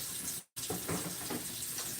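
Cold water runs steadily from a kitchen tap while food defrosts beneath it. The flow makes an even, close rush that cuts out for a moment and then resumes.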